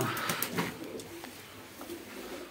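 Pigeons coo repeatedly at close range in a loft, with soft rolling calls and light rustling and no talk.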